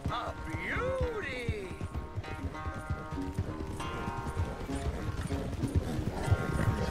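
Horse hooves clip-clopping in the video game Red Dead Redemption 2, a steady rhythmic trot with a brief whinny, over game music and voices talking throughout.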